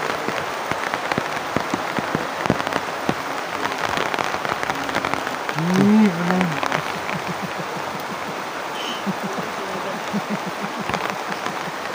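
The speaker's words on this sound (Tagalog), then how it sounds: "Malamig ang ulan." Heavy rain pours steadily onto surfaces outdoors, a dense continuous patter that lasts throughout. Voices murmur faintly in the background and a brief vocal sound rises midway.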